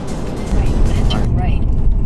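A Nissan Skyline's engine revs hard on a mountain road, a loud, close, throaty roar that swells after the first half-second while people talk over it.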